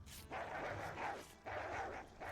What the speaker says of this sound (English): given the bone dog swarm that is right outside